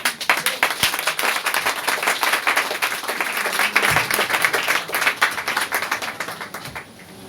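A church congregation bursts into lively applause and acclamation, many hands clapping in quick, crisp bursts with rhythmic peaks, loud and close, easing off toward the end.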